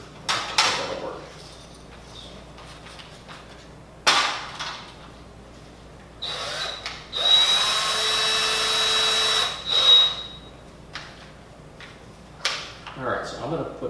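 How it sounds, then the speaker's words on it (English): A power drill bores screw holes in wood for a handmade chair, with several short whirring bursts and one longer steady drilling run among clatter and quiet talk. "we want the drill hole to be just a hair smaller than the screw"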